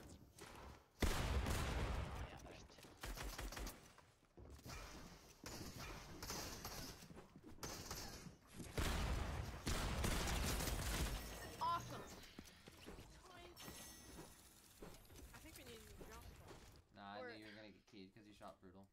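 Rapid bursts of gunfire in a video game crackle loudly in several clusters, mixed with game effects and near-constant talk from players over the action.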